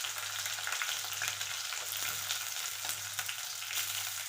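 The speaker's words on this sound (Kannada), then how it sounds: "ಆ ದೊಡ್ಡ ಉಳ್ಳಾಗಡ್ಡಿನ ಹಾಕ್ತೀನಿ" Chopped onion frying in a hot pan for pav bhaji, a steady loud sizzle with crackling spatters running throughout and no voices.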